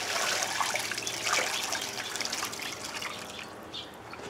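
Dirty water and material from a trommel clean-up are dumped out, a close splashing trickle and dribble that tapers off gradually over a few seconds, with no talk.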